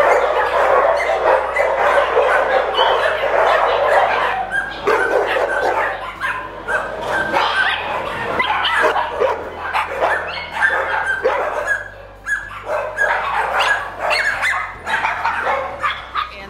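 Many dogs at a crowded animal shelter bark and yip continuously, a dense, loud chorus of overlapping barks close by with occasional whimpers and no pauses.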